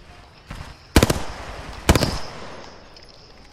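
Gunfire in the video game Apex Legends: two quick bursts of rapid automatic shots, about a second apart, sharp and loud against quiet background ambience.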